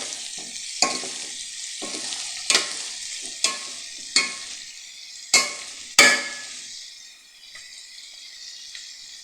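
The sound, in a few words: stirring frying carrots in a pan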